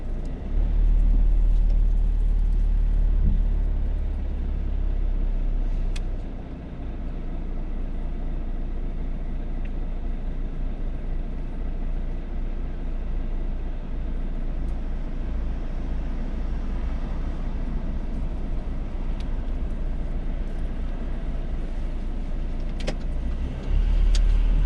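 Steady interior engine drone and road rumble of a car on UK roads during a learner's mock driving test, continuous and fairly loud throughout with a brief dip partway, no talking.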